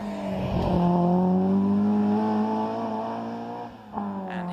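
A Peugeot 106 GTI race car in the pre-1998 class driving on an almost dry track, its engine a steady loud drone that rises slightly in pitch, with a brief dip near the end.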